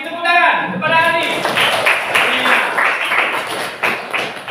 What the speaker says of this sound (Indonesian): tepuk tangan kepada Adi.